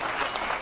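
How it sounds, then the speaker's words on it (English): Strangers in an airport arrivals crowd applaud a returning soldier on R&R leave as he walks through to his mother; a dense, steady wash of clapping fills the whole short moment. "Zander was applauded by strangers at the airport"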